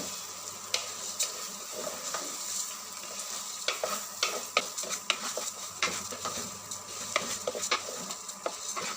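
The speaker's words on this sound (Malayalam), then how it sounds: "അരി ഒരു മിനിറ്റ് ഒന്ന് വറുത്തെടുക്കുക ആ മസാലയിലിട്ടിട്ട്" Raw rice being stir-fried in a spiced masala in a pan, with a steady sizzle broken by repeated scraping and clinking strokes of a spoon against the pan, close and fairly loud, no talking.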